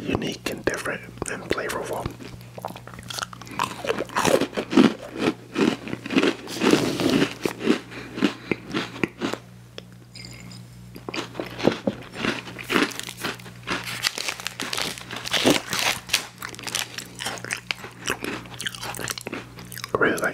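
Close-up ASMR eating of chocolate peanut butter pie, with soft sticky bites, chewing and crinkly mouth sounds repeating throughout, mixed with whispered talk.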